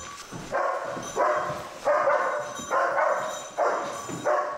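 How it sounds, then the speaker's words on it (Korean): A German shepherd search dog, trained to bark when it finds a missing person during a building search, gives about six loud, close barks at a steady rhythm, roughly one each second, with no talk. "명령이 있기 전까지 짖어서 알리도록 훈련받았다"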